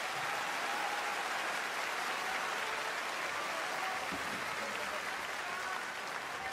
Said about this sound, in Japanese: この拍手が物語っていると思います。